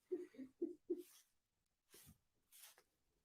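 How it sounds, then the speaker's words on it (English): A sleeping, dreaming dog makes four quick, close, muffled woofing grunts in a rhythmic burst, then after a pause gives two breathy snorting exhales. "Dog's asleep making sounds. Must be dreaming."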